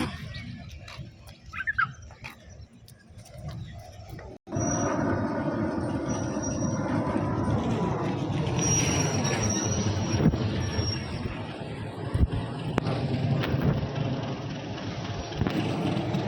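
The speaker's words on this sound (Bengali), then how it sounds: "এই ট্রেন আসতেছে" A train approaches and rolls past, a loud, sustained rumbling roar that starts abruptly and carries thin high wheel squeals over it, close by.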